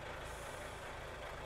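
Steady, broad hiss of air brakes on an Iveco HiWay truck in Euro Truck Simulator 2, a continuous rushing release with the engine rumbling underneath.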